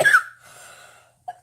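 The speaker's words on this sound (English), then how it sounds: "I hate that I cough all the time, especially when I'm on video." A single person's cough bursts out loudly and close, followed by a softer breathy exhale and one brief catch of breath near the end.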